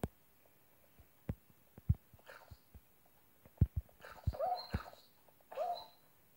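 A Minecraft dog gives short whimpers after being struck in the video game, amid game thuds and footstep clicks, with a couple of louder whining yelps near the end.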